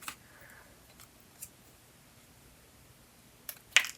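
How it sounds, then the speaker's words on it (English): Scissors snip paper during a paper pumpkin kit craft: faint, sparse clicks in a quiet room, then one crisp, close snip near the end. "I'm going to use my scissors and cut a tiny bit there."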